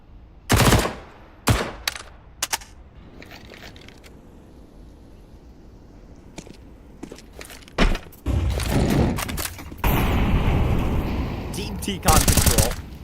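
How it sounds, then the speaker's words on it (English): FAMAS rifle fire in a competitive video game match, with loud close bursts of rapid automatic shots and sharp single cracks spread over several seconds alongside other gunfire. "The FAMASs are rattling off elsewhere"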